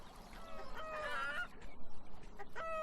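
Chickens cluck and squawk in a garden scene of the game Beyond Eyes, a few close, honking calls rising over a soft ambient background.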